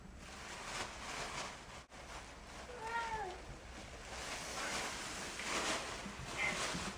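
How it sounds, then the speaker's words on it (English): A pet cat gives a single short meow, fairly faint against steady background noise in a room, with no talking. "That's my cat."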